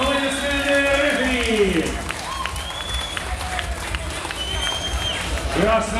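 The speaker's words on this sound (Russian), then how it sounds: "Аплодисменты бойцам." Applause and crowd noise for fighters after a mixed martial arts bout, loud and sustained throughout, with an announcer's voice talking over it near the start and end.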